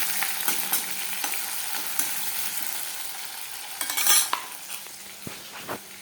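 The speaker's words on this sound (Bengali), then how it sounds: "যে পেঁয়াজটা আমার ভাজা ভাজা হয়ে গেছে" Chopped onions sizzle in hot oil while being stirred, with a steady frying hiss and scattered scraping clicks of a utensil against the pan, close and moderately loud, no talking.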